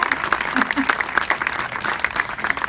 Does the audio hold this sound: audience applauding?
yes